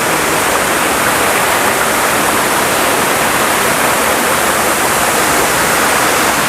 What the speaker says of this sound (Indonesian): Ini kondisi dari air terjun yang keempat.